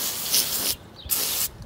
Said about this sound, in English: spray it down with just some cheap windshield de-icer